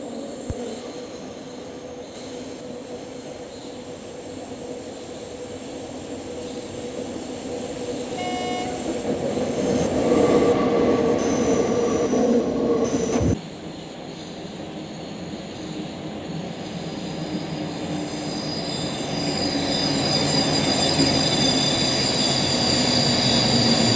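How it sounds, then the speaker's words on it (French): Autorail railcar crossing a viaduct on the Alps line between Grenoble and Veynes, approaching Clelles station, giving a steady rolling rumble with metallic wheel squeal that swells midway and eases, heard alone at moderate distance. "Notre autorail franchit le dernier viaduc précédant la gare de Clel."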